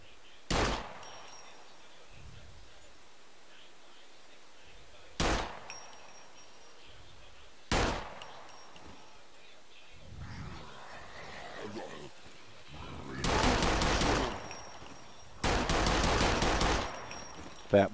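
Gunfire in the video game SCUM aimed at puppets: three separate sharp shots spaced a few seconds apart, then two longer loud bursts of rapid automatic fire, with quieter game noise in between.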